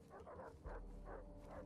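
Dogs barking and yipping at an enemy camp in Far Cry 3, a few short barks over a steady low game ambience, moderately close.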